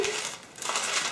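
Parchment paper crinkles and rustles briefly in a home kitchen while soul cakes are being made, a close, crisp burst of crackling with no talk.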